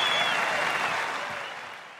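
Golf gallery applauding as Martin Kaymer walks up the 18th hole, dense sustained clapping from a large crowd that slowly fades, with voices mixed in.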